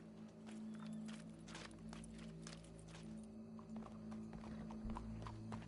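Horse hooves clip-clopping in a PS4 video game, steady repeated hoof strikes over a constant low hum of game music and ambience, with no talking.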